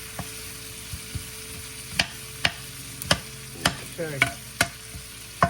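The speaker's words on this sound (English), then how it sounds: "Let that goodness cook into those onions." Onions frying in a pan for a Sunday spaghetti dinner, with a soft continuous sizzle broken by a series of sharp clacks and scrapes of a utensil stirring, close up; one brief word is spoken.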